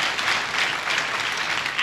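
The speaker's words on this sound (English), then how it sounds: "Let us clap for Jesus Christ." A church congregation claps together in a dense, steady burst of applause that fills the short clip.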